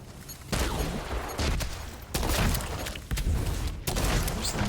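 Mortar fire in the video game The Division 2: a rapid series of heavy booming blasts and cracking explosions, loud and close, arriving in bursts a second or so apart over a steady background din, with no speech.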